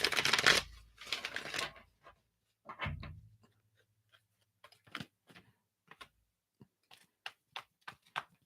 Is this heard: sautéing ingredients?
no